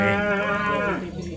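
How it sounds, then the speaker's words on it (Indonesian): A water buffalo arriving at the Monday livestock market in Purwakarta lets out one loud, close, drawn-out low moo that fades at the end. "Datang ini kerbau. Kerbau dari Wanayasa nih."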